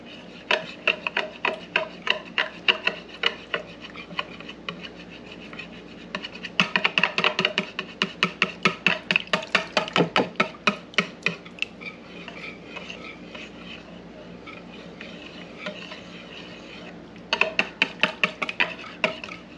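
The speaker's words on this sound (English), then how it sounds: "We're just gonna whisk this together" A whisk beating lemon pancake batter in a bowl, steady fast rhythmic clinking and scraping against the sides, close and clear, with a brief pause midway before the whisking resumes.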